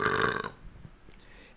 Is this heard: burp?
yes